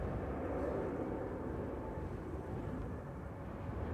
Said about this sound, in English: EasyJet coming in from Milan. Flight 1986, A319,